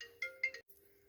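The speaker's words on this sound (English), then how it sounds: "Just a moment, I'll just answer that phone." A phone ringtone plays softly in a room, several quick melodic pulses over a sustained tone, stopping briefly before a faint continuation, with no one talking.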